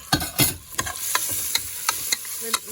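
Onion, garlic and cinnamon stick fry in a pan and are stirred, with a continuous close sizzle and sharp scrapes and clacks from the spoon at an irregular pace.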